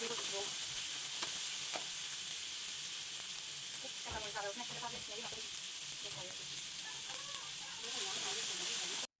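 Ground spice paste frying and being stirred in a pan for an egg curry, a steady close sizzle with scattered scraping stirs and a brief clatter, continuous throughout.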